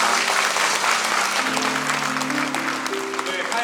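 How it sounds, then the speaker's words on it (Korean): A church congregation at an evening prayer meeting claps loudly and continuously, a thick, close wave of applause with sustained tonal sounds, like voices or instruments, running beneath it. "크신 은혜 허락하신 우리 하나님께 영광의 박수 올려드리겠습니다."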